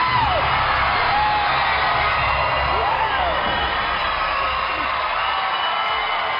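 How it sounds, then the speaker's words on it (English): A studio crowd cheers and whoops loudly as the Survivor Africa winner is announced, a dense continuous roar with individual shouts rising out of it throughout. "The crowd exploded."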